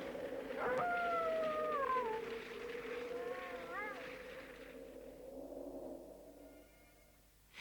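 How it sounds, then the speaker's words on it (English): Wolves howl across a snowy northern countryside, a few long wavering rising-and-falling calls overlapping in the first seconds, then fading into quieter background sound. "Wolves howled and ravens croaked"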